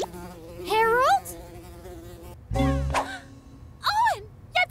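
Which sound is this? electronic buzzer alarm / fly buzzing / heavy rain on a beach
fly buzzing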